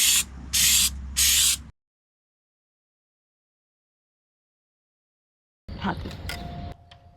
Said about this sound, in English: I bought this Flex Seal paste and a Flex Seal liquid spray rubberized.